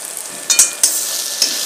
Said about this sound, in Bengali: এবার পুরো মশলাটাকে একটু ভালো করে নাড়িয়ে চাড়িয়ে নিয়ে একটু ঢাকা দিয়ে দিলে একদম বেশ কাই হয়ে যাবে মশলাটা